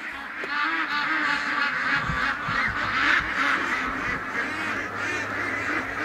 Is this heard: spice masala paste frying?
no